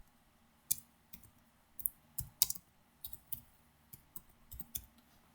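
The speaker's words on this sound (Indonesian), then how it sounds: "Kita langsung ambil new conversation, ketik, misalnya selamat pagi anak-anak." Typing a message on a computer keyboard: a quiet run of irregular keystrokes, close and crisp, with no talking.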